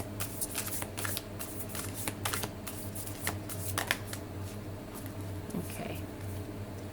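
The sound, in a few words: shuffling large Spirit Animal Oracle cards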